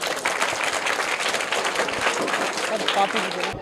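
Children and onlookers applaud a prize winner at a school, a moderately loud, uneven patter of many hands clapping, with a few voices briefly rising above it near the end.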